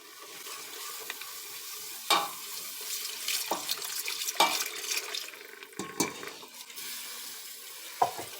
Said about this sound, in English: I add the milk in stages just so that I can whisk it in